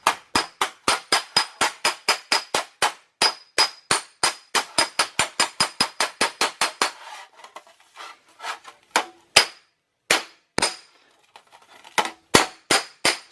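A hammer flattens a TIG weld on thin sheet steel car bodywork: a fast, even run of loud metallic blows, then slower, irregular strikes with short gaps, with no talking.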